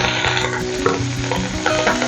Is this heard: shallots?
yes